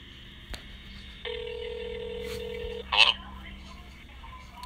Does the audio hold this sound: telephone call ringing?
yes